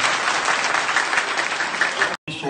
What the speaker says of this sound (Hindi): एक बार सब बच्चों के लिए जोरदार तालियां